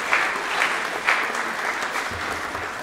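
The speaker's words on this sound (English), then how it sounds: "So big round of applause." Audience applause at a university library presentation on song history, with steady dense clapping from a crowd, a few sharper claps standing out, continuing evenly for about three seconds.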